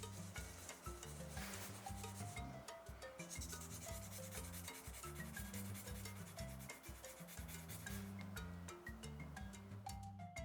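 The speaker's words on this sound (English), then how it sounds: "grab the fine yellow sandpaper and dip it in the water. Fold it in two and keep sanding" Fine yellow sandpaper, dipped in water and folded, rubs wet against a small leaf pendant in steady back-and-forth strokes, close and fairly quiet, with no voices.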